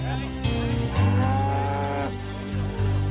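Cattle on a Texas ranch near Beeville low repeatedly, with several deep, drawn-out moos overlapping one another, loud and close, and no voices heard.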